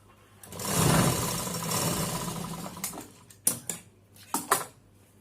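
A sewing machine stitches a cloth face mask with a steady mechanical whir for a few seconds, then a series of short, separate clattering bursts, close and fairly loud.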